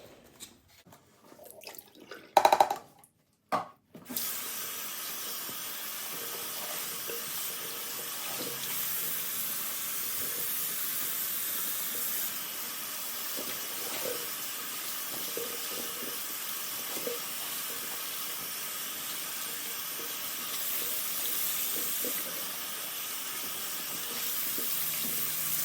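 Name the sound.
rinsing dyed cross stitch fabric in the sink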